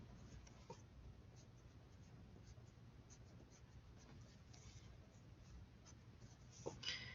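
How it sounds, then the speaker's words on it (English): A drafting pencil lettering on paper, giving soft continuous scratchy strokes with brief pauses between letters, faint and close. "I'm using my drafting pencil"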